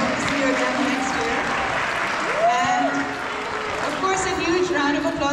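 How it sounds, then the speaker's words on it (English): Audience applause for performers at a culture show gathering, continuous crowd clapping throughout with a voice talking over it and occasional cheers. "Round of applause to the performers"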